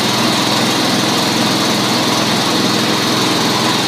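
A small engine fitted with a new muffler runs steadily at half throttle, a loud, even, continuous drone close by with no change in pitch and no voices.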